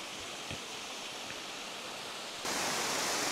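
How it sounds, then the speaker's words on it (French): Constant roaring rush of falling water, a dense hiss that swells louder near the end. "cette cascade fait énormément de bruit"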